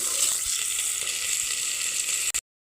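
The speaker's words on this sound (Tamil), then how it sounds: "இப்போ வெங்காயம் சேர்த்து கொஞ்சம் வதங்கிடுச்சு வெங்காயம்." Onions sautéing in a pan for a Tamil-style chicken gravy give a steady, close hiss of frying, broadband and even throughout with no talk, cutting off abruptly near the end.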